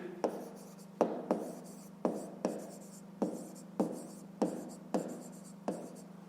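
A pen writes digits on paper while a fifth-grade maths exercise is worked, a series of regular tapping strokes about every half second, close and clear over a low hum.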